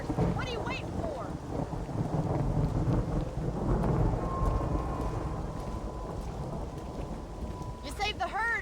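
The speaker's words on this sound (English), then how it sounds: "Storm's getting worse." Thunderstorm in Red Dead Redemption: heavy rain hisses steadily while thunder rumbles low and rolls through, with a sharp crack near the end, loud and close, no voices over it.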